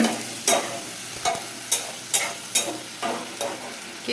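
Green chilies and onion hit hot oil in a pan, giving a steady close sizzle broken by a series of sharp scraping stirs about every half second to second, with no talking.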